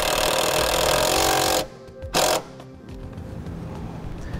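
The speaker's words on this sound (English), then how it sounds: "We'll go ahead and put a ground screw in place." A power drill whines loudly as it drives a self-tapping ground screw into the sheet metal of a 2006 Ford F-150, running steadily, stopping, then giving a short final burst.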